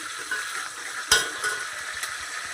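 Curry leaves sizzling in hot oil as they are stirred into a fish curry, a steady hissing fry with a few light scrapes and clicks of the spoon.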